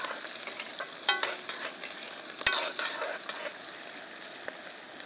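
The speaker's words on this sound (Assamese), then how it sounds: "এতিয়া পিঁয়াজ আৰু জ্বালাখিনি অলপ ভাজি ল'ম।" Sliced onions and chillies fry in smoking-hot oil outdoors, a soft continuous sizzle broken by stirring scrapes and a sharp utensil knock midway, moderately close and without talk.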